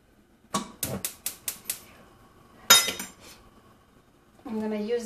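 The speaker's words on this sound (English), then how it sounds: "I'm going to start the stove." A gas stove being lit: a quick run of sharp ticking clicks, then a louder crackling burst, followed later by a steady low hum.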